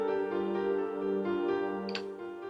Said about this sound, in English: I have used Bossendorfer grand piano from Logic for this one